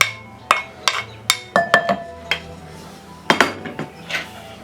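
Spoon or utensil clanking against a bowl while mixing spinach pie filling with parmesan, onions and garlic, a series of sharp close metallic knocks at an uneven rhythm.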